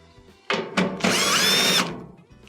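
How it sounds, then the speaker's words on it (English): A power drill backs quarter-inch screws out of the top panel of a Whirlpool dryer: two short whirring bursts, then a longer whine lasting almost a second, close and loud. "Remove these 2 1/4-inch screws,"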